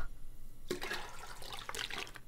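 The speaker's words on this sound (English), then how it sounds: "Oh, let's take all of the toilet water." Water gurgles and splashes in two short bursts as a toilet is drained for drinking water in The Long Dark, a survival video game, with no talk over it.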